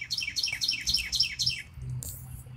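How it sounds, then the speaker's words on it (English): A bird sings close by in a quick run of six or seven repeated descending whistled notes, followed by a brighter high chirp, over a faint low background hum. "Got the birds agreeing."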